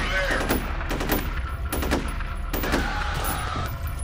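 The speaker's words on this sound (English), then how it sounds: "I'm gonna shoot him in the leg." Gunfire from the F.E.A.R. video game, a dense run of loud shots and short bursts spread across the whole stretch over a steady game background, with no talking.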